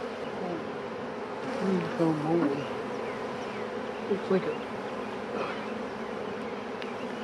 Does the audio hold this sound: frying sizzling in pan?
no